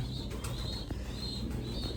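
Pigeons in a pigeon loft, a low steady cooing murmur with occasional soft wing rustles, continuous and close throughout.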